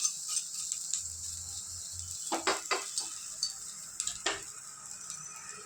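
Green chillies frying lightly in a pan while being stirred, a soft steady sizzle broken by a run of quick scraping and tapping utensil strokes, close and fairly quiet.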